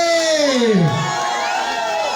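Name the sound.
concert crowd shouting and cheering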